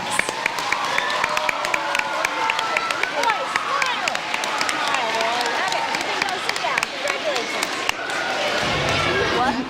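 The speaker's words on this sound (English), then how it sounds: "Let's give him one more big round of applause." A crowd at a live running-awards event applauds and cheers the winner in a dense, steady roar of clapping and voices, with scattered sharp claps and a few shouts over the top.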